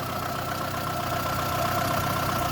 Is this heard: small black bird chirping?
no